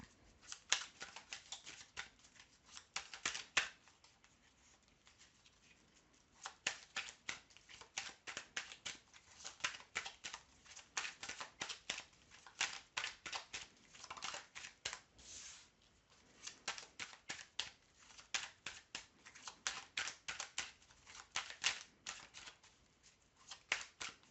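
Tarot cards are shuffled by hand in repeated bursts of quick riffling and flicking, close and fairly soft, separated by short pauses over about twenty seconds.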